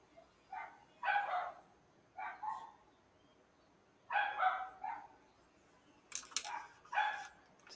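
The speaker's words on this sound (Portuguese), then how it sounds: "Vocês estão ouvindo a sinfonia da cachorrada" Two dogs barking happily outdoors, short clustered woofs and yips coming in bursts with pauses between, moderately distant and fairly quiet, with no talk over them.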